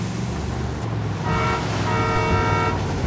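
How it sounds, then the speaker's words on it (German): A train horn in the open-world shooter Ghost Recon Wildlands sounds a sustained, harmonically rich blast that swells in and holds over steady game ambience and wind, fairly distant, with no speech. "Ach, das ist ein Zug oder was?"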